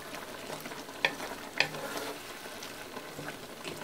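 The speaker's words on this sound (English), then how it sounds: "It's boiling, guys, after just 2 minutes" Black bean sauce for jajangmyeon bubbles and sizzles in a pan, a steady soft crackling hiss with a couple of sharp little pops or clicks, close and fairly quiet with no talking.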